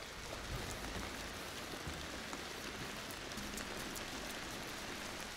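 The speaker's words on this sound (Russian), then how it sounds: "Прям за шиворот бьет мне дождик." Rain falls outdoors beside a garage being stencil-painted, making a steady, faint hiss of drops hitting surfaces with no talking over it.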